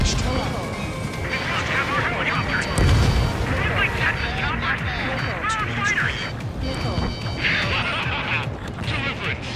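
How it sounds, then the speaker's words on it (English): Missile launches and explosions from the jet combat video game Ace Combat 7 sound as dense booms and crashes over a continuous roar of game audio, with radio-style voice chatter running through the mix. "Missile launched."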